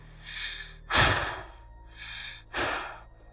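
Someone breathes heavily nearby in a room, with two loud, close exhalations like sighs or gasps alternating with softer inhalations in a slow, steady rhythm.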